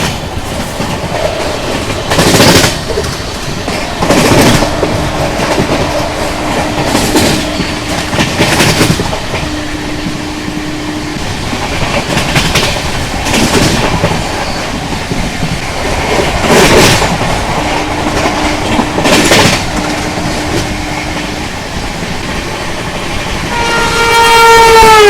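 A train rumbles past a crossing in India with rhythmic clickety-clack bursts and several long horn blasts, ending with a rising squeal of metal.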